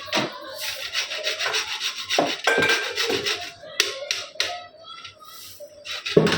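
Dough sheets for karanji pressed and rolled out by hand with a rolling pin, giving close, steady rubbing and scraping strokes in an irregular rhythm with a few sharper knocks, and no talk.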